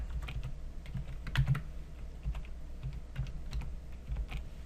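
Rapid irregular keystrokes on a computer keyboard while coding, close and moderately loud with scattered heavier clacks, no talking.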